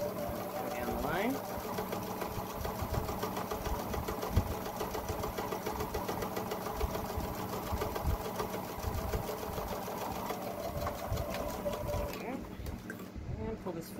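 A sewing machine runs steadily, back-stitching and then stitching along a fabric mask seam while a person talks over the continuous mechanical whir.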